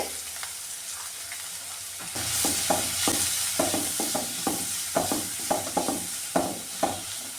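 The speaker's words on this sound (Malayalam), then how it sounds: "ഈ സവാളയും പച്ചമുളകും കൂടെ ഇട്ട് കൊടുക്കുവാണ്" Onion, green chillies and curry leaves fry in a hot pan for a Kerala-style bean thoran, a steady loud sizzle with repeated sharp scrapes and clinks of stirring that start after two seconds and come about twice a second.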